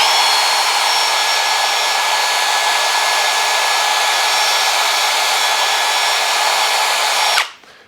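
A Festool T18 Easy cordless drill spins at full speed with a loud, steady whine for about seven seconds, then cuts off abruptly and winds down.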